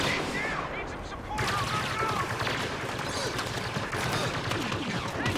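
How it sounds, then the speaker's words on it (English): A Star Wars Battlefront hero's barrage ability fires a spread of shots as a rapid volley of blaster-like blasts. The blasts sit in a dense, noisy battle mix, with voices audible. "it shoots those 5 bullets out in a spray formation"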